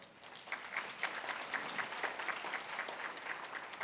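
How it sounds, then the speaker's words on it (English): Audience applause at a housing symposium, a dense steady clapping from a sizable crowd that holds fairly even throughout, with no voices. "We should give them a round of applause."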